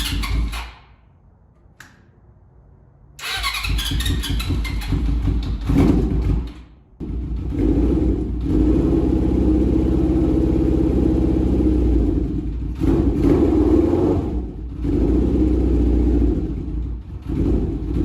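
A car engine with one cylinder not firing cranks and catches, then idles with a loud, steady rumble, broken by a few brief dips and thuds.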